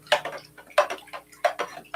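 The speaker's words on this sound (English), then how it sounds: "we're going to stir it up" A spoon stirs MasterBlend fertilizer and Epsom salt into water, giving a close, rhythmic run of light clinks and taps against the container in quick repeated strokes.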